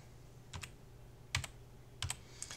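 Typing on a computer keyboard: a few quiet, separate clusters of key clicks, two or three taps each, spaced over a couple of seconds against a faint hum.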